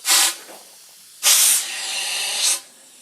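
Air cannon venting in two loud hissing blasts of released air, a short burst followed by a longer rushing release that fades, with no voices.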